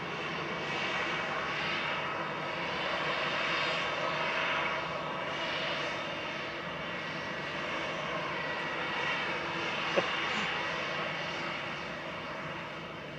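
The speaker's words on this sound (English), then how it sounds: "OYKAS coming in with flight 2547 from Stockholm Arlanda" SAS passenger jet in old livery landing at Manchester Airport on flight 2547 from Stockholm Arlanda, a steady broad engine roar throughout with a brief sharp click near the end.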